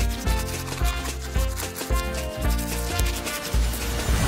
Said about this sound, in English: Now they'll need a good brushing.